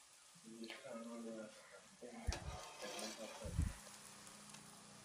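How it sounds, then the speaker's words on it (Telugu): Ariselu sweets fry in oil until golden brown, giving a faint, steady sizzle with a few stirring clunks as they are turned, under a person's talking. "అరిసె గోల్డెన్ బ్రౌన్ కలర్ వచ్చే వరకు వేపుకోవాలి"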